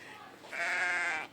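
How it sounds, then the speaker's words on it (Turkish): Sheep bleating heard from a garden, a single drawn-out wavering bleat rising over a steady background hiss, moderately loud and fairly close. "Koyun sesi çok var değil mi?"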